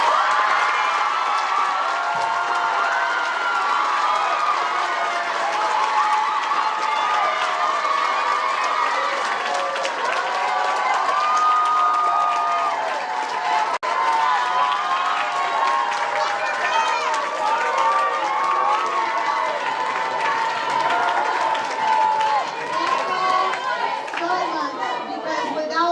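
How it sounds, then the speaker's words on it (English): An awards-ceremony crowd keeps up a steady wash of applause, cheering and chatter for the whole stretch, loud and dense, with voices mixed into the noise. "Let's go ahead and give them a huge round of applause"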